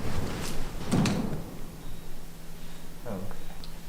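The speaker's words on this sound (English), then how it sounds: "a loud, unmistakable slam broke the silence" A loud door slam in an abandoned building, one sharp bang near the one-second mark with a softer knock a couple of seconds later, over quiet room tone and faint movement.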